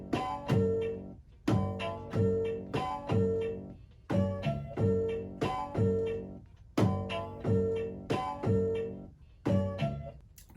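Boom bap hip hop beat built from chopped soul sample slices, with punchy drums and short looped musical phrases repeating in a steady rhythm, clear and alone.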